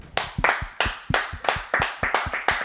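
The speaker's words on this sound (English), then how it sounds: "Round of applause for Tyler." A small group claps for Tyler in an uneven, fairly close round of about a dozen sharp hand claps over a few seconds, with no talk over it.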